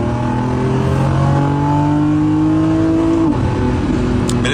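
A Lamborghini that redlines at 9,000 RPM accelerates hard, its engine note climbing steadily in a loud, continuous roar from inside the car, dipping briefly at a gear change before pulling again.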